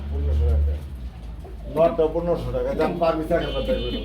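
Pigeons coo close by at a pigeon market. A low throaty coo comes first, then people talk over faint bird sounds and market bustle.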